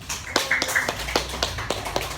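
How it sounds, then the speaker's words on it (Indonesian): Scattered classroom clapping for a student group, a handful of separate sharp claps at uneven intervals, fairly close and brief, with no talk over them. "Beri tepuk tangan untuk kelompok 1"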